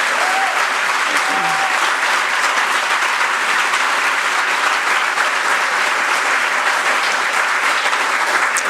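Loud, sustained applause from a large audience at a city mayor's State of the City address in Tampa, a dense unbroken wash of clapping that holds steady throughout.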